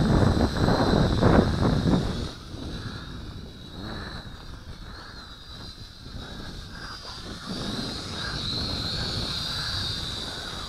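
A Syma X5C quadcopter drone flies in gusty wind, its steady whine running continuously under heavy wind buffeting on the microphone, with louder gusts at the start.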